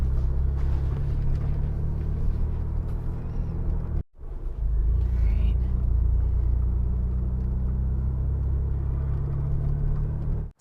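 A Ford vehicle driving slowly at night with only the headlights on, its engine and road noise a steady low rumble heard from inside the cabin, with a brief dropout partway through.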